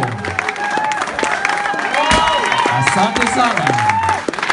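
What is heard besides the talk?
audience applause at a ceremony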